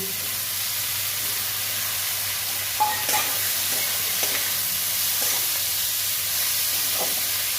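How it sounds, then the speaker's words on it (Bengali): Onion, green chili and ground mustard paste sautéed in a pan, a steady loud sizzle with a few light clinks and scrapes of stirring, close and continuous. "ভালো করে কষে নেব"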